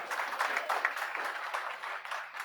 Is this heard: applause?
yes